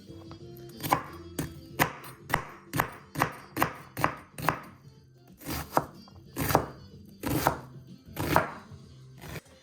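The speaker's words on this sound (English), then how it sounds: "And I'm gonna chop the onion." A knife chops an onion on a cutting board for beef stroganoff, a steady run of close, crisp thuds in quick succession with brief pauses between bursts.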